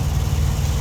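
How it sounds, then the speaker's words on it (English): A truck's auxiliary power unit runs right beside the camera, a loud, steady low diesel drone with a constant rumbling pulse and no break. "The truck beside me has a APU that's running,"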